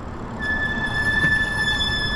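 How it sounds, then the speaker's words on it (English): Squeaky brakes on an Ariel Rider Grizzly e-bike squealing as the rider slows, a sustained high-pitched whine held for about two seconds over road noise and rumble. "they're squeaky brakes"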